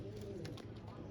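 Pigeons coo softly and repeatedly in a brief, faint stretch, low rolling calls over a quiet background hum.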